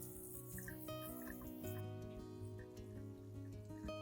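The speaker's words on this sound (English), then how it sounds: "Finally, gently rinse the plant under clean running water" A snake plant is rinsed under clean running water, giving a faint, steady trickle and scattered drips that stay close and quiet against a low background hum.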